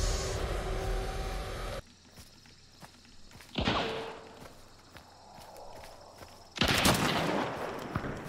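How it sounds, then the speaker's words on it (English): Several loud gunshot bursts ring out in the Hunt: Showdown video game, separated by quieter stretches with faint footsteps and ambient noise. "Shooting through the cracks."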